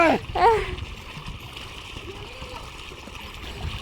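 A child splashing in water while learning to swim, with a burst of splashing at the start and then a soft, steady watery wash; a child's and adults' voices are heard over it.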